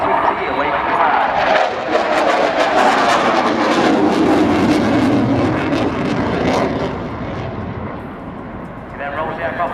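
A Eurofighter Typhoon jet flies an aerobatic display at an air show, its engines making a loud sustained roar that swells and then fades slightly toward the end, with a commentator talking over it.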